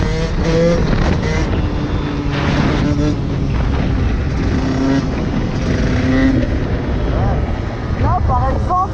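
A KTM 125 SX two-stroke dirt bike ridden on the way to work, its engine note rising and falling as it revs through the gears, loud and close under almost continuous talking.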